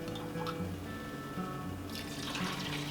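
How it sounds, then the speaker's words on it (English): Beef broth, four cups of it, streams steadily into a soup pot of French onion soup, a continuous close liquid rush over a low background hum. "Next, I'm going to add in 4 cups or 1/4 of beef broth."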